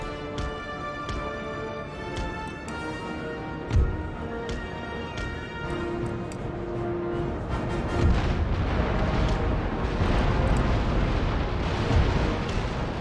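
Naval cannon fire in Empire: Total War sounds as scattered booms and low rumbling blasts, with several sharp reports early on, over a busy, steady battle din that thickens toward the end.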